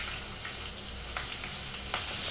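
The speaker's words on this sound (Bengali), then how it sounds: "এবার দিয়ে দিচ্ছি চেরা কাঁচা লঙ্কা।" Slit green chillies sizzle in hot oil alongside panch phoron and dried red chillies. A steady, close hiss of frying carries a few faint crackles and pops, with no voices.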